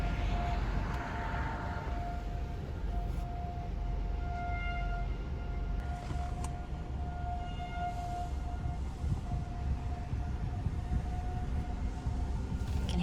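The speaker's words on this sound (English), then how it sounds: "You can hear the tornado sirens." Tornado sirens wail steadily from a distant town at night, a faint sustained tone under loud rumbling wind or engine noise throughout.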